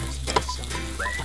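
Food being stir-fried and tossed in a wok: a brief, steady sizzle with a faint scrape partway through, heard on its own.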